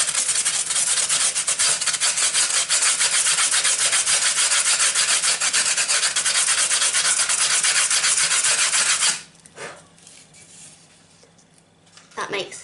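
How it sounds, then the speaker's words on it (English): Sandpaper rasps steadily and loudly up close against the rough edges of a homemade hide and water dish for a beetle enclosure for about nine seconds, then stops, leaving faint quiet handling noises. "if you want them a bit tidier, you can use a bit of sandpaper and makes an awful noise"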